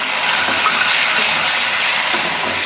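Tomatoes going into a hot pan of onions fried pink, for a spicy sprouted moth bean usal: a loud, constant sizzling hiss that stays steady and close the whole time.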